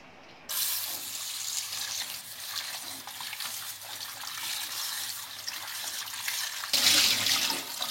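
Tap water runs hard over sweet potatoes being rinsed for frying. A steady splashing rush starts after a quiet half second and swells louder near the end, with no voices over it.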